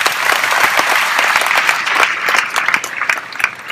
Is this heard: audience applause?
yes